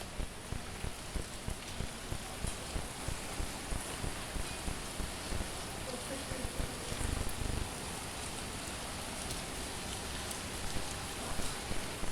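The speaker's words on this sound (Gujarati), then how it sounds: "આજે એટલો વરસાદ છે ને કે બહાર નીકળાય એવું બિલકુલ જ નથી" Heavy rain pours steadily in a dense, continuous hiss with a constant patter of drops, no voices, lasting throughout.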